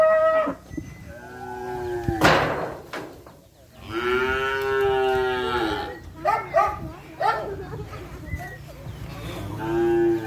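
A pregnant 3B breed cow and other cattle moo repeatedly, long loud close calls with deep harmonic lows, several overlapping bellows in succession with farm background noise.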